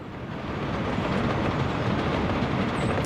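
A long train rumbles past steadily, its railcars giving a continuous clattering roar that holds loud and close for the whole stretch, with a faint high tone briefly near the end.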